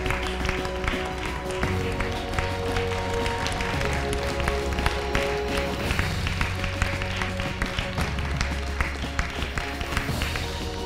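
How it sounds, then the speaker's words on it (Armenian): An audience at the Miss Armenia 2021 pageant final applauds the top ten contestants as they are named, with sustained clapping mixed with music and an announcer's voice over the crowd. "ավելի բարձր ծափահարեք աղջիկներին, լավագույն տասնյակն է ընտրվում։"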